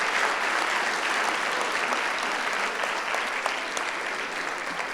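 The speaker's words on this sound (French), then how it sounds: "On va remercier et applaudir nos 4 intervenants." Audience at an economics conference applauding four panel speakers, dense sustained clapping from a large room that stays loud and even for several seconds, with no voices over it.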